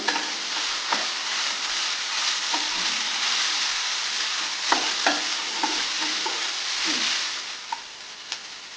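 A large onion fries on a high flame for veg fried momos, giving a loud, continuous sizzle with scattered clinks and scrapes of stirring throughout.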